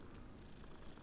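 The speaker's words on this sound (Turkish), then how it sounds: "Aa kedi." Low, steady purring from a cat in the game Hogwarts Legacy, a quiet continuous rumble that stays even through its whole brief length with no voices over it.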